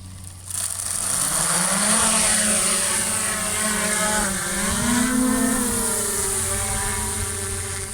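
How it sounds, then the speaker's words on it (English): A survey drone flies a pre-planned grid about 45 meters overhead above a natural outdoor site. Its steady buzzing propeller whine holds for the whole stretch, rising and falling slightly in pitch as it moves, with no speech. "So the drone, which you might just be able to hear, is flying 45 meters above us on a pre-planned grid."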